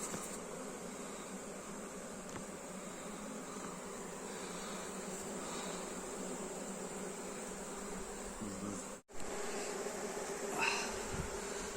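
Honeybees drone in a steady, dense buzz around their hives at a honey-harvesting apiary, continuous and fairly faint, with a brief dropout near the end and no clear speech.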